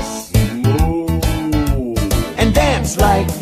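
A singing voice imitates a long, low cow moo within a children's song, riding over a rhythmic backing track, close and clear.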